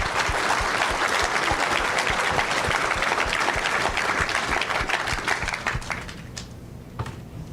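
A room of attendees at a pulling team awards event claps for the Promoter of the Year winners, a loud, thick round of many hands that holds steady and then thins and tapers off toward the end.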